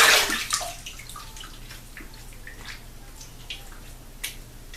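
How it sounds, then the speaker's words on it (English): Running water rinses off during a wet shave with a Rockwell 6S razor, a brief loud splash and gush at the start that quickly thins to soft drips and trickles close by. "Let me rinse off."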